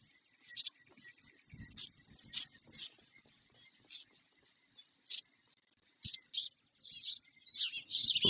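Newly hatching chicks peeping from inside their eggs, a series of short, thin, high chirps in scattered bursts that grow busier toward the end, with faint rustling below.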